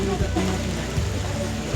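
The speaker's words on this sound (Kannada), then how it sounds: "ಇವಾಗ ತುಂಬ ಮಳೆ ಬರ್ತಿದೆ." Heavy rain pours steadily outdoors near Bannerghatta jungle, a dense, even wash of hiss with no breaks, and no one speaks over it.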